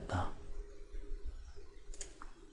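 A computer mouse button gives a couple of faint, sharp clicks at close range during CAD drafting in Inventor, one near the start and another about two seconds in, with quiet room noise between.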